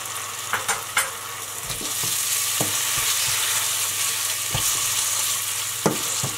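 Tomato goes into a pan of frying clam sauce for monkfish with clams, and oil sizzles steadily throughout while a spoon stirs and scrapes in a few close, distinct clicks.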